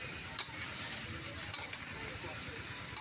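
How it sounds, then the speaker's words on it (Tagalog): Chicken intestines (isaw) frying in a pan at a fiesta, with a soft continuous sizzle and three sharp clacks of the stirring utensil against the pan. "Halo-haloin natin mga idol."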